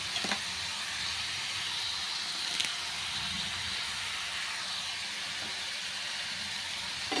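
Curry leaves sauté in a hot pan, producing a continuous bright hiss and sizzle with a few sharp crackles, steady and close throughout without any speech.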